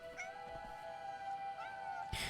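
A cat in the video game Crimson Desert meows in two drawn-out, wavering calls close up, followed by a brief sharper cry at the end.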